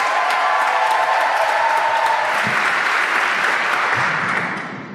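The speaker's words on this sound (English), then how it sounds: "Please give him a big, big welcome and round of applause." A large audience at a talk on Palestine gives a big welcome round of applause, loud and sustained with a few cheers and whoops mixed in, tapering off at the end.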